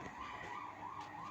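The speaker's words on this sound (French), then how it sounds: "Tiens, on entend les sirènes." Emergency vehicle sirens outside, heard from indoors in a holiday rental bathroom, wail up and down steadily at a distance, faint and muffled under a broad background hiss, with no talking.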